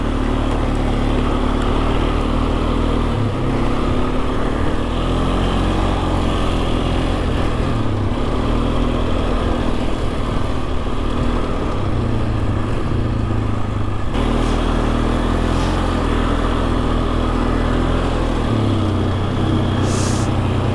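A Polaris Sportsman 500 ATV engine drones steadily while drifting through snow, a loud, continuous rumble that rises and falls with throttle changes for the whole stretch, with no talk.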